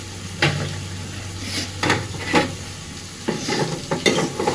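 Chilli with tomato sauce stirred and frying in a pan, a steady sizzle under repeated scraping strokes of a spoon against the pan, loud and close.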